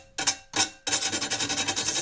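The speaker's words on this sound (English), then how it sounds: "So just take the really rough sandpaper," Rough sandpaper scrapes over rusty armour, close and loud: two short separate strokes, then a fast run of quick back-and-forth rasping strokes.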